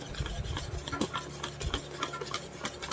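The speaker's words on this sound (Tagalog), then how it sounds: "Ayan, haluin na natin." Whisk or spoon stirring pancake batter in a bowl, producing continuous rhythmic scraping and rubbing strokes, close and steady for the whole stretch.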